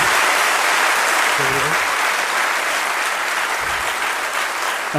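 Sustained applause from an audience fills the whole stretch, steady and dense, with a brief voice surfacing faintly in the middle.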